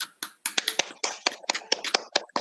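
A classroom group gives a short round of applause, with sparse, uneven individual claps close by that stop and start over about two seconds.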